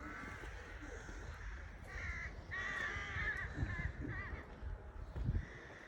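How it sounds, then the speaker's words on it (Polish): Crows caw repeatedly near castle ruins at Jeziorany, their harsh calls overlapping at moderate distance over a steady outdoor background, with a faint voice briefly present. "Tu ptactwo często spotykane."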